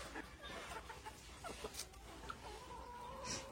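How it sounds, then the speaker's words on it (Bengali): Free-roaming backyard chickens and a rooster cluck in scattered short calls over a steady outdoor hum, with a few sharper squawks standing out near the end. "দেখুন আগে মুরগিগুলো সব খাঁচার ভেতরে থাকতো, এখন সব ছেড়ে দিয়েছে।"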